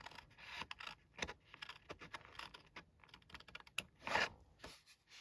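Scissors cutting through thin card while making a pop-up 3D greeting card, heard as a series of close, crisp snips and scrapes in irregular bursts, with no voices.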